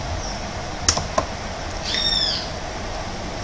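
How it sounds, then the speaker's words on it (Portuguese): Two sharp clicks of a key being pressed on a computer keyboard during a Corel Draw lesson, followed by a short chirping tone over a steady background hum. "Eu posso clicar na imagem e apertar a letra P no teclado."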